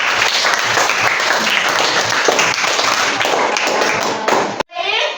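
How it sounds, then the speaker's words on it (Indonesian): Students clapping together in a classroom, a loud, continuous clatter of many hands with some thumps, cutting off abruptly near the end before a voice begins to speak. "tepuk tangan buat kalian semua yang selalu hadir"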